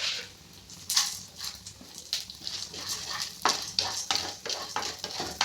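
Lentils roasting dry in a pan are stirred with a utensil, giving repeated scraping and rattling strokes in an irregular rhythm, close and moderately loud.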